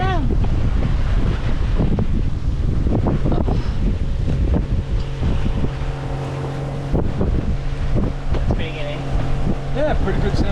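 Steady wind buffets the microphone on a sailboat running downwind in flat seas, a loud continuous rush with water noise beneath and voices talking over it.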